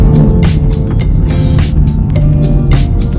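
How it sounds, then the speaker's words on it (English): A 2022 BMW X7 40i SUV accelerating hard with a quick downshift, heard as a loud, close engine roar and rumble that surges steadily for a few seconds with road noise, no voices. "If you step on the gas, that's that quick downshift."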